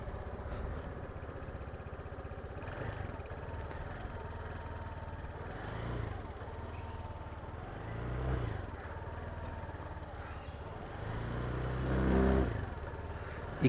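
A nearby Sym Symphony 200i scooter engine idles with a low, rough exhaust note, then revs up in several short bursts, the last one loudest.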